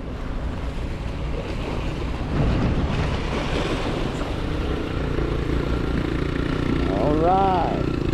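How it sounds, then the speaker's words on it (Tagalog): Strong sea waves surge and wash continuously around a small motorboat, with steady wind buffeting the microphone throughout and a brief tonal squeal near the end. "Lakas ng alon, no?"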